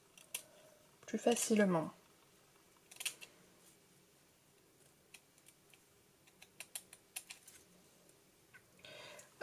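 Scissors snip through a sheet of 30x30 craft paper in a short, close burst near the start, followed by scattered light ticks and handling taps, with a brief spoken phrase.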